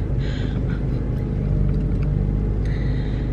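A car's engine and road rumble are heard from inside the cabin while driving, a steady low drone with a few faint higher sounds on top.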